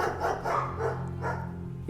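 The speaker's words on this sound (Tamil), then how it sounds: "அப்போ ஒரு நாய் குறைக்கிற சத்தம் கேட்டது" A dog barks in a forest during a hunt, giving four or five quick, even barks in a row over a low, steady humming backdrop.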